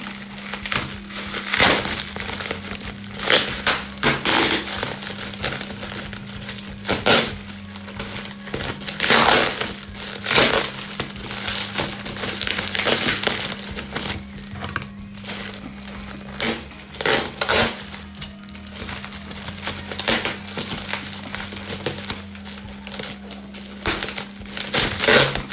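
Taped-up eyelash packaging being pried open, giving steady crinkling and crunching of plastic and tape with sharp tearing bursts throughout, close and fairly loud, with a constant low hum underneath.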